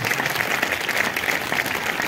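Energetic clapping from a congregation at a preaching service, many hands beating in a steady, loud patter with a slightly rhythmic pulse throughout.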